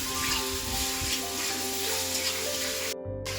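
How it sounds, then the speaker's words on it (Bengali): Potatoes seasoned with turmeric and salt fry steadily in a pan, a continuous close hiss with steady crackle and low background hum, cutting out briefly near the end. "আলুগুলো আমি একটু ভেজে নিয়েছি"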